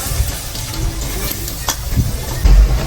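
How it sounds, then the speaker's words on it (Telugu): Onions frying in hot oil for a potato curry, a continuous sizzle with occasional stirring scrapes and clinks of a spoon in the pan, close and fairly loud. "నూనె మరిగాక ఉల్లిపాయలు వేసి"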